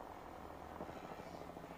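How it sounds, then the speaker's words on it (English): A drone buzzes steadily in the Apex Legends video game, a continuous low whirring hum at moderate level. "Switching to drone view."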